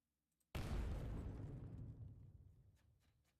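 Explosion sound effect for a game in development: a single loud, sudden boom after a brief silence, followed by a long rumbling decay that fades out over about three seconds.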